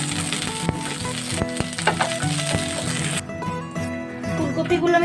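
Cauliflower florets frying in hot oil for dhaba-style Punjabi aloo gobi, giving a loud, steady sizzle that thins out and softens partway through, with a tonal hum running underneath.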